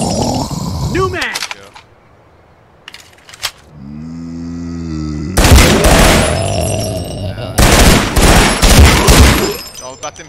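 Gunshots in the zombie video game Dissolution: a few scattered shots early, a quiet stretch with a tonal hum, then loud bursts of rapid gunfire in two volleys, with someone talking over the action.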